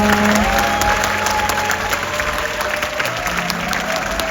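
A church congregation gives loud, sustained applause for elementary-school children's Christmas performers, a thick continuous clatter of clapping close by with a faint hum underneath.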